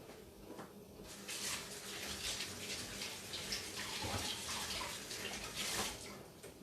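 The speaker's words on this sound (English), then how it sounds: "I'm going to rinse these real quick." Running water from a kitchen tap rinses items in a sink, a steady broadband splash with small clatters and shifts in flow, close and fairly quiet, with no talking.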